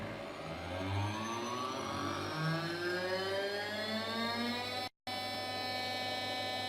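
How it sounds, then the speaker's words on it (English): CNC 6040 router spindle spinning up for PCB milling, a loud steady high-pitched whine with rising and falling harmonic sweeps as it changes speed, broken by a brief cut-out near the end. "region toolpath, spindle on"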